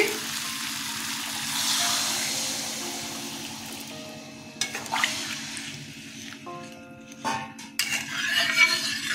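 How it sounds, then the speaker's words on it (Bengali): Water goes into a sizzling pan of vegetarian jackfruit seed curry: a steady loud fry fades, then splashing, clinks and a quieter bubbling sizzle follow, close by and without talk. "কষানো হয়ে গেছে, আমি এখন জল দিয়ে দিচ্ছি।"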